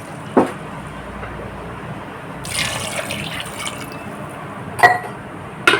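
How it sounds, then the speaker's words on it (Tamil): Water pours into a pressure cooker holding goat trotters with ginger-garlic paste, a brief splashing stream in the middle between sharp metallic clinks at the start and end, fairly close in a quiet kitchen. "ஆட்டுக்கால் வேகிறதுக்கு 2 கிளாஸ் தண்ணி ஊற்றிக்கோங்க."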